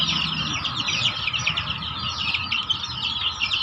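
Chickens and young chicks in a home flock make a steady stream of overlapping high chirps and soft clucks, continuous and fairly close, with no talking.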